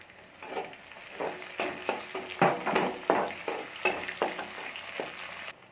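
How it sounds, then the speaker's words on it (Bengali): Spice paste lightly frying in soybean oil for chicken egg noodles, with a steady sizzle broken by repeated spatula scrapes and stirring knocks, close and moderately loud, no voices. "পেস্টটাকে হালকা করে ভেজে নেব"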